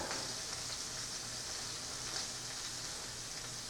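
Steak searing on its second side in a hot pan over medium to medium-high heat, a steady, dense hiss of sizzling fat running evenly throughout without pause or talk.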